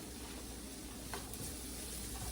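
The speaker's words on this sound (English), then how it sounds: "Peppers and onions sauteed." Peppers and onions sauté in a pan for jambalaya, giving a low, steady sizzle with a faint stir or scrape partway through, heard alone with no voices.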